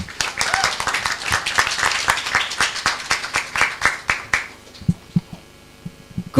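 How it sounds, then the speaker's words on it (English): An audience applauds at a funding launch event. Dense, steady clapping fills roughly four seconds, then thins out into a few scattered, separate claps, with faint voices underneath. "Let's all give ourselves a hand of applause for the good work we're doing on social media."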